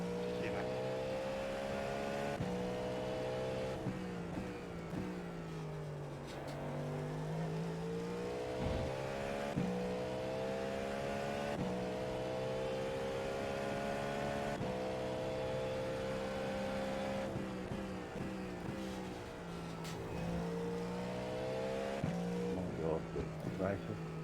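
Race car lapping in a Sebring 12 Hour endurance racing video game, a continuous engine drone with repeated gear-shift pitch sweeps and rising revs, people talking over it throughout.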